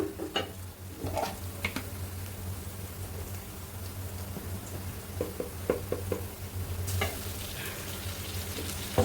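Ginger garlic paste frying in oil in a wok, with a steady sizzle broken by scattered spatula scrapes and clinks against the pan, close and moderately quiet, with a brief louder burst of sizzling near the end and no talking.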